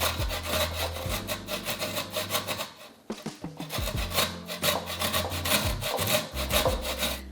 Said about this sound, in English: now I'm going to grate the beets and I'm going to use the thicker side of the grater